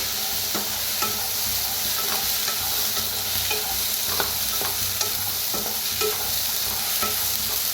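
Brinjal roasts in a hot pan with a continuous, dense sizzle and crackle, punctuated by light scraping clicks of a spatula stirring, steady and close with no speech.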